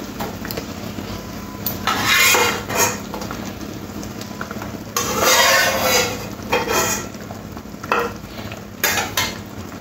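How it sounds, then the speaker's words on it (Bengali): Fried prawns go into a pot of elephant foot yam curry, with bursts of sizzling and scraping stirring in a pan coming in uneven waves over a low kitchen hum, no talk. "এরপরে দিয়ে দেবো ভেজে রাখা চিংড়ি মাছ।"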